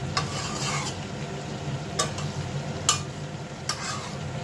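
Chicken sautés in spice masala in a pan for a chicken and potato curry, giving a continuous close sizzle with several distinct metallic spoon clinks and scrapes as it is stirred.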